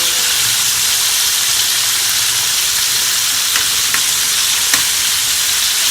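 Chicken pieces fry in hot oil for a copycat Popeyes sandwich, giving a loud, steady sizzle and hiss throughout, with a few faint clicks and scrapes as the pieces are turned over.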